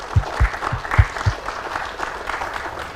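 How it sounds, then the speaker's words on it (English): Audience applause for a panel of lecturers at a liberty and constitutional government lecture series, a steady wash of many hands clapping with a few louder close claps at the start, fading slightly over three seconds. "give them a round of applause"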